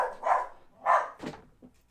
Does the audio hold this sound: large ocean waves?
no